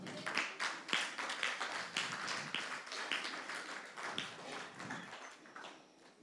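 A church congregation claps to acclaim the Lord, a fairly quiet, slightly uneven patter of many hands in a room, with faint voices underneath.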